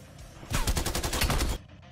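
Krig 6 rifle firing in Call of Duty Cold War, a rapid burst of gunfire lasting about a second, loud and close, cutting off sharply.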